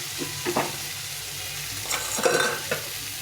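Potatoes and spice paste for a fish curry frying in a pan, with a steady close sizzle broken by several scraping stirs of a spoon against the pan.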